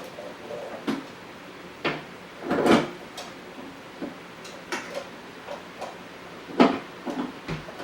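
Bread machine pan being fitted and locked into place, a series of scattered plastic-and-metal clicks and knocks with a heavier clunk partway through and another near the end, close up and fairly quiet, with no talk.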